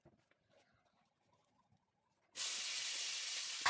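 A wok being rinsed: after near silence with faint knocks, a sudden loud rush of running water or hissing steam starts and continues steadily to the end.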